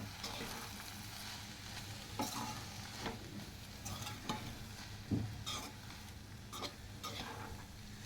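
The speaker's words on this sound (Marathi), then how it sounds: "सगळ्या बाजूनी चारही बाजूंनी एकदम व्यवस्थित मिक्स करून घ्या." Poha is stirred and mixed in a pan, a soft, steady sizzle with periodic scraping strokes of a spoon against the metal, quiet and close with no talking.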